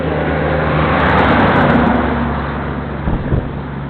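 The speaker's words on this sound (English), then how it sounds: "Here comes a gravel truck." A gravel truck passes by on a road near a fairground, a loud rumbling roar that swells and then fades as it goes past, with wind noise over it.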